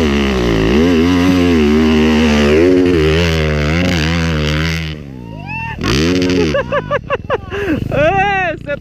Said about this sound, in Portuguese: É, vem Husqvarna, Gustavão.